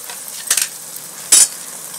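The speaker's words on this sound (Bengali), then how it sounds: "দিয়ে এবার মশলাটাকে ভালো করে কষাবো বন্ধুরা" Spices for a crab curry sautéing in a pan: a soft constant sizzle broken by two short bright scraping bursts of stirring, the second louder, with no talk.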